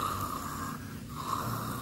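A voice imitates snoring with two long, nasal, rattling snores separated by a brief pause, close and fairly loud.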